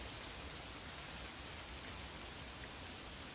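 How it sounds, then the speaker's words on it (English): Light rain falls outdoors at night in a wooded dene, a steady soft hiss of drops with water shaken from the trees, even and continuous without any voices. "A little bit of rain just hitting us out."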